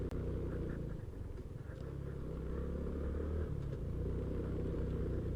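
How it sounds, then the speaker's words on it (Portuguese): A Honda Biz 125 motorcycle idles nearby with a steady low engine rumble that holds at an even level throughout, with no revving and no voices. "Deu jeito, a moto não tá vibrando aí."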